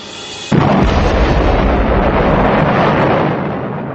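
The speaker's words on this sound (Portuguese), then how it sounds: "De repente ele explode." A foaming solution explodes: a sudden loud whooshing burst erupts after a brief hum, then sustains as a roaring, hissing rush that slowly eases off.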